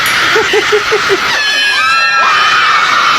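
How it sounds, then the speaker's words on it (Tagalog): Loud, continuous screaming and shouting from a crowd at the New Year midnight countdown, with high shrill voices sustained throughout and sharp whoops rising above the din. "Grabe sigaw eh."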